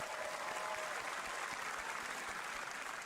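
Broad crowd applause at a live video game showcase event, steady and continuous at moderate level, heard somewhat distantly with a faint low rumble beneath the clapping.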